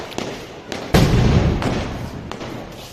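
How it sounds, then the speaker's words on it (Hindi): Diwali firecrackers burst from a rooftop in several sharp, booming cracks at irregular intervals, one louder and nearer than the rest, with noisy crackling between them. "कितने सारे पटाखे फूट रहे हैं यहाँ पर"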